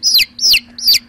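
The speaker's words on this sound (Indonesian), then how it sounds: "Dani mendengar sayu-sayu suara anak ayam dari arah atap ruang guru." Three bright, high-pitched chirps from baby chicks come in an even rhythm about every 0.4 seconds, close and fairly loud, with a faint steady hum underneath.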